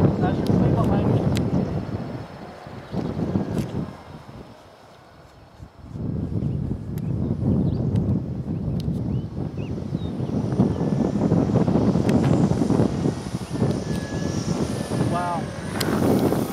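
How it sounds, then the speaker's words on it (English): Strong wind buffets the microphone in heavy rumbling gusts that briefly ease before picking up again, with the faint engine whine of a flying radio-controlled model plane in the background. "It is really windy"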